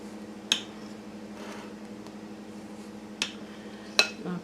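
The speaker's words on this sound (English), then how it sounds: "I'm going to cut a couple more slices here" Knife cutting slices of pound cake: three soft, sharp contacts against a board, spaced a few seconds apart over a faint steady background hum.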